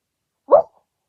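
A person imitates a dog with a single short, gruff vocal bark, close and loud, standing alone between stretches of silence.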